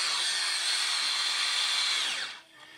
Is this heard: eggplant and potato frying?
no